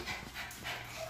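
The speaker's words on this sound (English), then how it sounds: "Sorry for the background noise because I'm in the bathroom sitting with the dogs." Dogs sitting in a bathroom, heard as faint, soft panting and snuffling in a small echoey room, with low breathy puffs and a slight whine.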